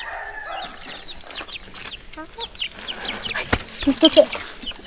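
A native hen clucks among her small chicks on a farm, soft repeated clucks mixed with high peeping, close by, with a person talking quietly in the background.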